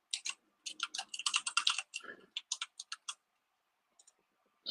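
Quick bursts of fingers typing a password on a computer keyboard, soft close key clicks in irregular clusters with short pauses, a few final taps after a gap, quiet and with no speech.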